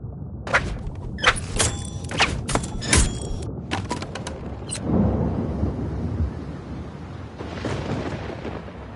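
A thunderstorm over the stormy ocean in the VR video game Another Fisherman's Tale: loud thunder cracks strike several times in quick succession, then give way to a deep, rolling rumble that lingers.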